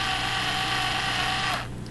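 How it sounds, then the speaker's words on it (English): A handheld cordless drill runs steadily at high speed boring a hole in wood, loud and close with a constant whine, then slows and fades in the last moments. "then you take a drill and you would just want to pick a spot and just drill a hole"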